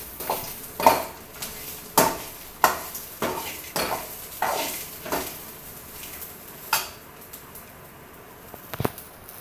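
Coconut masala being roasted in a pan for a Salem-style raw mango curry, a spoon scraping and clinking against the metal pan in a series of irregular stirring strokes, fairly close, with no talk.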